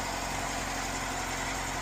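A Ford Escort pickup engine with a freshly adjusted carburettor idles slightly high while warming up, a steady, dense, close rumble with no break.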